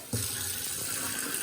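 Water runs from a tap into a measuring cup for bread dough, a steady close splashing hiss that begins abruptly and continues without talk.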